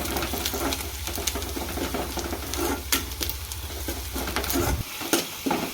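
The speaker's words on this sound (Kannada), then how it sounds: "ಶುಂಠಿ ಬೆಳ್ಳುಳ್ಳಿ ಪೇಸ್ಟನ್ನು ಅಷ್ಟೇ ಚೆನ್ನಾಗಿ ಫ್ರೈ ಮಾಡ್ಕೊಳ್ಬೇಕು" Ginger garlic paste frying with browned onions in a pan, a steady close sizzle broken by repeated scraping stirs, with a low hum underneath that cuts out near the end.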